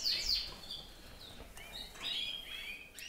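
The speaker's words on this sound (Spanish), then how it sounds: "Tengo aquí una parejita de píos." A pair of small cage birds gives thin, high chirps and short tweets in bursts close by, over a soft steady background hiss, with no voices.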